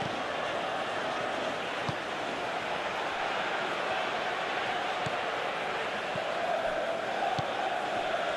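Steady, dense stadium crowd roar from the PES 2019 football game during an Ajax vs Real Madrid Champions League match, a constant distant wash of noise with no distinct peaks.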